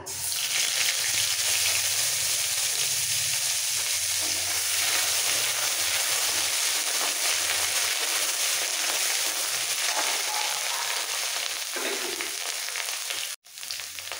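Ginger paste fries in hot oil over tempered spices for sukto, a loud, steady, close sizzle that fills the whole stretch and briefly cuts out near the end.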